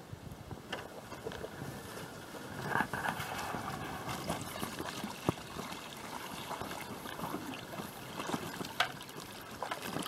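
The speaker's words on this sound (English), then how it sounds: "There's a good example of the water flowing over the tops of each of the mortars." Water trickling and spilling from one stone mortar hole to the next across a rock basin outdoors, a steady close wash with light splashes and wind buffeting the microphone throughout.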